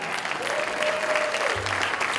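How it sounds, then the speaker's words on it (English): Brief burst of audience applause in a conference room during a keynote, dense clapping throughout with a faint voice beneath it. "We need a round of applause."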